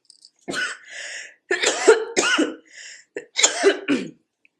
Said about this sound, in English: Every time I start recording, I start coughing.